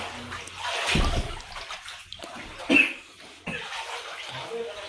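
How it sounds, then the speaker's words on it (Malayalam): Floodwater inside a house in Vaikom during the 2018 Kerala flood, heard as intermittent sloshes and splashes with brief louder bursts, close by, with occasional voice in between. "അരുവിന്റെ മുറിയിൽ ഇത്രയും വെള്ളമുണ്ട്"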